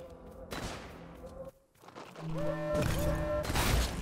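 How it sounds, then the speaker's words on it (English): Gunfire in the video game Drake Hollow hits the player in rapid bursts, mixed with bright electronic game tones and effects that run almost nonstop at close range. "what the heck is shooting at me?"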